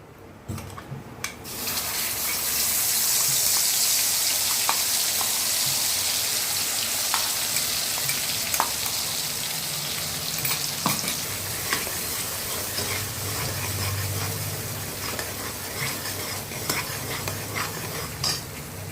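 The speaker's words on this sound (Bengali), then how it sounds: "অতএব মিক্সচার দিয়ে সুন্দর করে ওটাকে ফ্রাই করে নিচ্ছি।" A spice mixture poured into hot fish oil with cumin and dried chilies for katla kalia bursts into a loud, close sizzle that settles into steady frying with occasional spatula scrapes.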